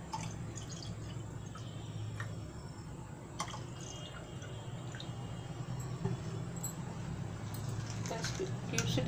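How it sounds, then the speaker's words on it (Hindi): Water trickles and splashes steadily into a container at close range, a soft continuous pour with small drips, with no talking; water added for homemade orange drink. "हम पानी डाल देंगे।"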